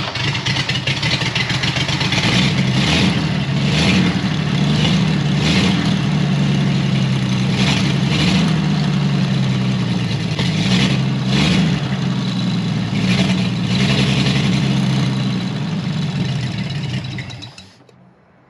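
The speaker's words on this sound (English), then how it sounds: "we've got a running engine" A Chevrolet Blue Flame Stovebolt Six engine runs on a test stand, a steady loud low rumble with slight rev changes that carries on for about seventeen seconds before cutting off and fading out.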